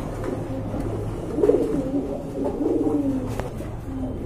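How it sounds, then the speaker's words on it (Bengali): A large male pouter pigeon with clipped foot feathers coos in low, rolling phrases, with a few swelling bursts over steady background murmur, close by. "এখানে কিন্তু বিগ সাইজের পোটারের একটা নর আছে, অনেক বড় সাইজের"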